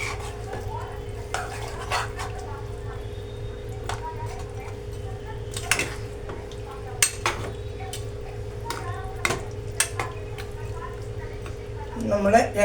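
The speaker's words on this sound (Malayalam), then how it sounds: "അപ്പം രണ്ടാം പാലൊഴിച്ച് നമുക്ക് ഇതൊന്ന് ഇളക്കാം." A spoon scrapes and clinks against a pan as curry is stirred after coconut milk is poured in, with intermittent metallic knocks over a steady low kitchen hum.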